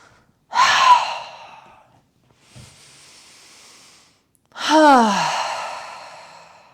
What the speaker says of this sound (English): Exhale, lower.